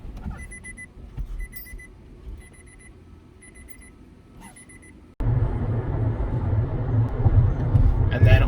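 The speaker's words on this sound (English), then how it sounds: "It also has a beeper when you turn the car off that sounds like it's straight out of the 90s." The turn-off warning beeper of a 2021 Nissan Altima SV chimes in a rapid run of short, high electronic beeps inside the cabin. Then a loud low road rumble suddenly takes over.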